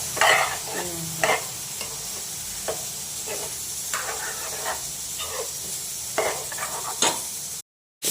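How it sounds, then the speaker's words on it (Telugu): Turmeric and salt being stirred into a ridge gourd and moong dal curry, a steady sizzle with repeated scraping strokes of the spoon against the pan, close and fairly loud, ending in a brief silence. "ఇప్పుడు పసుపు ఉప్పు వేసుకొని కలుపుకోవాలి ఫ్రెండ్స్"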